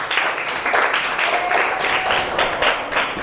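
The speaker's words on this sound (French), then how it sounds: "Applaudissez d'abord." Schoolchildren in a primary classroom clap together in a dense, even burst that holds steady throughout, loud and close with no talk over it.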